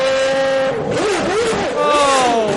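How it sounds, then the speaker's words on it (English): A Formula One car drives down the pit lane during a race, its high-pitched engine whining and shifting up and down in tone, with a commentator talking over it the whole time. "And into the pits comes Nigel Mansell for a second time"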